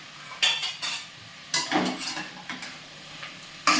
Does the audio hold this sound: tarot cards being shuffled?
no